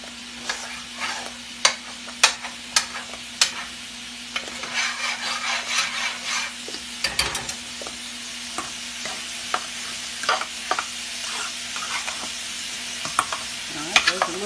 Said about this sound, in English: I've already washed these mushrooms right here, and I'm going to put those in. I've already washed them. And we're going to get those nice and hot and saute them